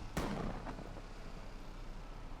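A sharp, booming bang like an engine backfire rings out once from a car in the video game Need for Speed Unbound, followed by a faint echo, over a constant rumbling engine drone.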